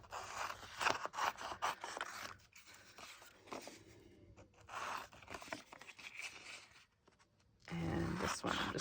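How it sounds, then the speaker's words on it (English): Scissors cutting tape image transfers, a run of close snipping and crinkly scraping clips with short pauses, faint and intimate in a quiet room. "now I'm going to cut these down just a little bit"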